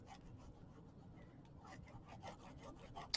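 Quiet rubbing and smoothing of score tape over glued chipboard for a handmade gift box, a soft steady friction with faint scrapes and a small tap near the end.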